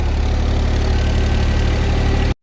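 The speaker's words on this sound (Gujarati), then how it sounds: "સોળસો આરપીએમ ઉપર ચાલે છે મિત્રો આપણું ટ્રેક્ટર" A tractor runs at about 1600 rpm while pulling a rotavator through a pigeon pea orchard, giving a loud, even engine drone that cuts off abruptly just before the end.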